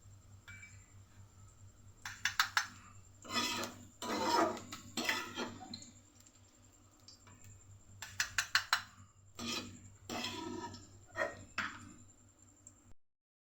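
Metal utensils clinking against a wok and bowl while fried onions are lifted out in a home kitchen, with quiet clusters of close taps and scrapes separated by brief pauses.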